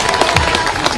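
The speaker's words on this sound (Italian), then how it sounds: "facciamo il nostro applauso quando entrano" An outdoor crowd applauds horse riders entering on Murgese horses at a spring fair parade, a brief dense wash of clapping that stays steady and fairly loud.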